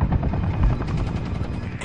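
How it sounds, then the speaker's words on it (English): An enemy helicopter in the video game Sniper: Ghost Warrior 2 beats with loud, rapid rotor chopping in a steady rhythm, close and continuous, with no talk over it. "The hell? Enemy chopper!"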